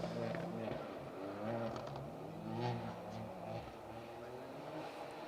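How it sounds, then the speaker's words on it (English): Ford Fiesta R2 turbo rally car climbing through the gears on a rally stage, engine note rising and falling with gear changes, heard at moderate distance with a commentator talking over it. "Firing that Fiesta R2 turbo through the gears here."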